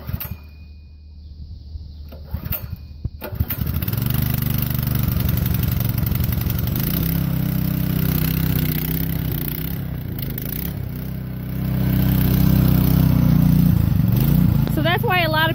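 Small gas engine powering a maple sap transfer pump, idling steadily after an oil fill, with a starting rumble then a continuous loud low chug that swells slightly near the end.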